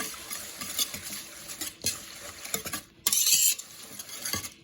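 A spoon stirs organic gluten-free rolled oats in a bowl for baked oatmeal, making close, irregular scraping and clinking strokes with short pauses between them and a brief louder burst near the end.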